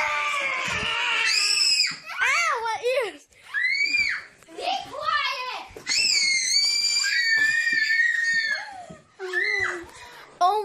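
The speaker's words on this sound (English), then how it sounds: "My sister is screaming at ear-splitting rate." A girl screams loudly at ear-splitting pitch, in long shrill wavering bursts repeated over about ten seconds with only brief breaths between them, close and harsh.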